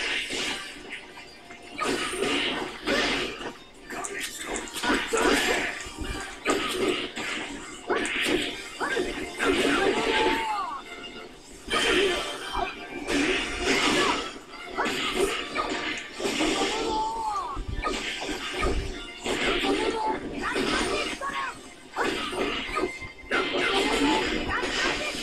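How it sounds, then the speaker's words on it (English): Gum Gum Pistol stretching punches from the video game One Piece: Pirate Warriors 2 land in a rapid, busy barrage of smashing, thwacking hits and effects, loud and dense throughout. "Ooh, the gum gum pistols."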